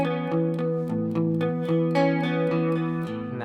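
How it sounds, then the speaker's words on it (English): Electric guitar plays the picked arpeggio intro of a song with a little reverb and delay, each note ringing into a soft echo in a steady, even rhythm, with no talking. "I have a little bit of reverb on there. I've got a little bit of delay. You can hear that echo."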